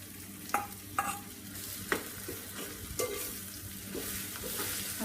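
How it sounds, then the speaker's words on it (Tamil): Banana flower usili with lentils stirred in a pan over a simmer, a steady low sizzle under repeated sharp scrapes of the spoon against the pan, close and moderately loud, with no voices. "இதை அப்பப்போ இப்படி கிண்டி விட்டுக்கிட்டே இருக்கணும்."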